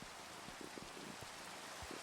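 Rain falling outdoors onto very wet snow slush in mild weather, a faint, steady patter with scattered soft drops, distant and quiet.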